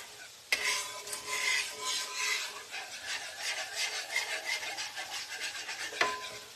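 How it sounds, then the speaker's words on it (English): A whisk beats lumps out of a mixture in a bowl, with continuous quick rhythmic scraping and rasping that carries on close-up from start to finish, marked by a sharp clink near the beginning and another near the end. "So I'm just whisking those up,"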